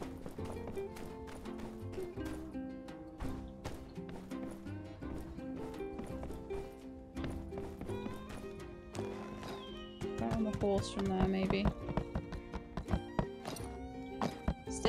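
Horse in the game My Time at Sandrock, steady clip-clop hooves running with occasional neighs over game music, with a player talking over it.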